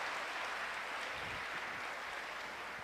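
A church congregation applauding, a steady wash of clapping from many hands at moderate distance, holding evenly throughout before a sudden sharp sound at the very end.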